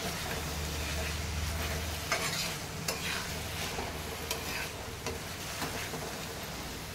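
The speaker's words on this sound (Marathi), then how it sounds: "यावर थोडी कोथिंबीर टाकायची आहे आणि मिक्स करून घेऊया" Masala for pav bhaji, with chopped coriander added, sizzles in a pan as a spatula mixes it, giving a continuous close fry hiss broken by repeated sharp scraping clicks against the pan.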